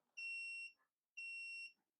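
A SEQUOIA SB2040 cordless chainsaw sounds its safety lock with two evenly spaced, loud, shrill electronic beeps, each lasting about half a second, with no talk.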